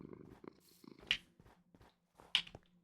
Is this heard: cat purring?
yes